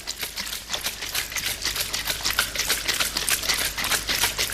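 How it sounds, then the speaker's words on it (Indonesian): A Tomo hydrogen water bottle is shaken steadily about fifteen times, giving a rapid, even run of close, crisp rattling clicks with no talk. "Kita kocok 15 kali kanan."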